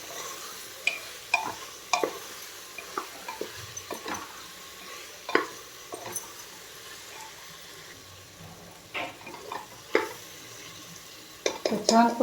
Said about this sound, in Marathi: हे सगळं टाकून घेणार आहे. आणि तेलावर छान परतून घ्यायचं.